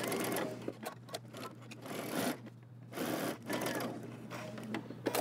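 A sewing machine runs in bursts stitching a jumpsuit seam with a 5/8 inch allowance, a fast whirring hum starting and stopping several times with brief pauses between runs, close and fairly quiet.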